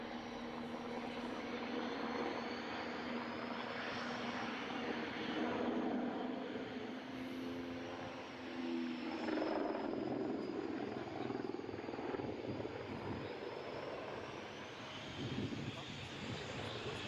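A Eurocopter Tiger combat helicopter drones steadily overhead with a constant rotor and engine roar that swells and fades slightly.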